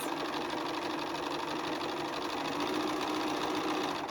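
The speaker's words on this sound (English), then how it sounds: "Let's stitch that 1/4 inch." A sewing machine runs steadily, stitching a quarter-inch seam through charm pack cotton pieces for a bowtie quilt block, with a close, continuous whir that holds an even pace throughout.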